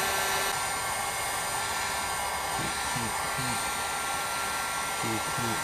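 A heat gun blows a steady, loud rush of hot air onto a Kydex phone holster from close range, with a few brief clicks and handling sounds beneath it.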